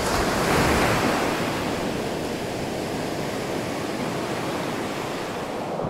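Ocean surf washes steadily onto a beach at Lagoinha do Leste, Florianópolis, a continuous loud roar of breaking waves with wind, no voices over it.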